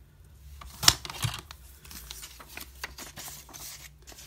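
Scissors trim the edges of planner paper in a few short, crisp snips close up, one sharp cut standing out before quieter rustling and smaller cuts.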